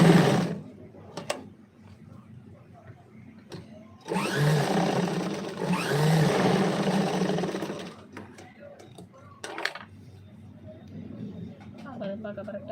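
Sewing machine stitching tucks on the back of a garment, running in bursts of steady whirring separated by pauses, close and fairly loud, with quieter clicks and handling noise between runs.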